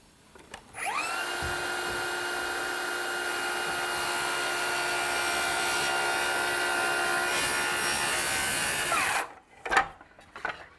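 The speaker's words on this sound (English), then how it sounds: "So now I'll cut my outside corner." A power miter saw spins up and cuts an outside miter corner through wood trim, a steady loud whine held for about eight seconds before winding down, followed by a few knocks, with no talking.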